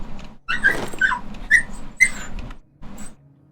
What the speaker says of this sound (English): Sorry if you hear the dogs. They're wrestling in the room.